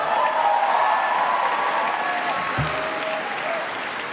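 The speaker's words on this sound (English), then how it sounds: "you could also like clap or cheer like a normal person" A large audience at a 2017 baccalaureate ceremony claps and cheers in a loud, dense, steady wave that holds for several seconds and eases slightly toward the end.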